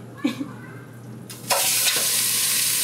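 Meat for goulash hits a hot pan in a home kitchen, giving a sudden loud burst of sizzling and frying hiss that continues steadily after a few brief knocks and rustles.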